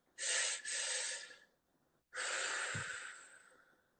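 Two deep, breathy inhalations and exhalations during meditation, close and audible, separated by a short pause, with no speech.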